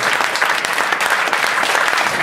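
A live concert audience applauds for a performer, a dense, steady wash of clapping from a sizable crowd that stays even and fairly loud throughout.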